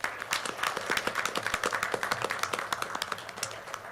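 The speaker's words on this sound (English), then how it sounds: "we can please give her a round of applause" A small audience at a school board meeting claps, a modest round of applause with distinct individual claps in an irregular rhythm, close and moderately loud.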